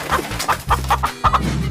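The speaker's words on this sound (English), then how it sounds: "chicken" A cartoon chicken clucks in short repeated bursts over a steady background music bed, fairly loud and close.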